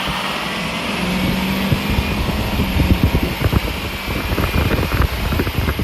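A Ford 6.0 Powerstroke diesel in a dually pickup runs close by after a long trip, a steady low rumble with a faint whine on top that grows into rapid rattling clatter in the second half.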